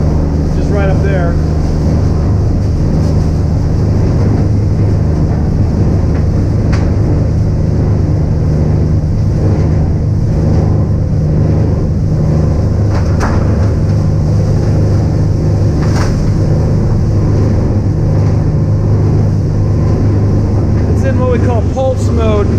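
A VIRTUS SG 1400 shredder's ram drives plastic film toward the rotor, a steady, loud low-pitched machine drone that holds throughout with only small shifts, while a voice talks over it.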